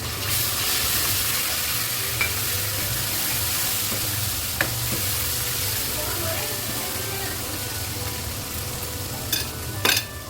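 Steady sizzling of garlic ginger paste frying in a hot pan after onions, with occasional clinks of a utensil stirring against the metal.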